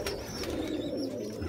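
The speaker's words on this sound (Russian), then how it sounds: "проверю вот этих голубей, которые мне ребята подарили" Pigeons cooing softly in a loft during their moult, low throaty coos repeating close by over a faint background hum.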